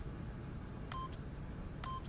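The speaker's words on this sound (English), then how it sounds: "by simply pushing random buttons on the keypad, Stanley happened to input the correct code by sheer luck" Two electronic keypad beeps sound about a second apart as buttons are pressed to enter a code in The Stanley Parable, each a short clean tone over a quiet, hissy background.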